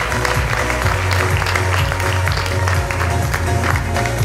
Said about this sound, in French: est représentée ce soir par Antoine Wolf, que l'on peut applaudir et qui nous rejoint.